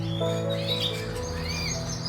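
Gloster canaries chirping and twittering close by in an indoor cage, a steady run of thin high calls and short warbles with no talk.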